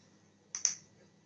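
Computer mouse clicking while selecting a date picker on a website, two quick sharp clicks close together, close and clear over a quiet background.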